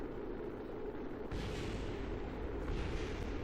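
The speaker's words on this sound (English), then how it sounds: "Now everything explodes." A rocket blows apart in Kerbal Space Program: a sudden dense roar of explosion cuts in over a steady rumble and keeps booming loudly, with no voices.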